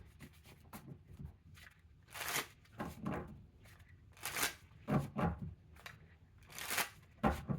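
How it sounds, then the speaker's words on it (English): Tarot cards are drawn, slapped down and slid across a table in a series of soft, close, irregular rustles and flicks. "I'm going to put more cards out"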